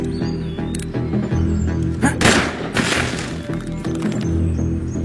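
Gunshots in a drama scene: a few sharp, loud bangs fired around the two- to three-second mark over a background music bed, with crashing noise trailing after.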